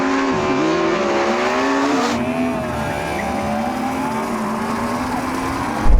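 Ferrari SF90 and Porsche Taycan Turbo GT launching in a drag race on a partly wet surface, heard as a loud, sustained high engine and motor whine rising in pitch, with a brief tire squeal at the start.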